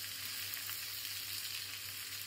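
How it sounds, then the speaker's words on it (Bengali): Food lightly frying in a pan with a little salt and turmeric while a paneer and capsicum curry is cooked: a soft, steady sizzle, continuous and faint, with no talking. "খুব বেশি ভাজবো না, হালকা করে ভাজবো।"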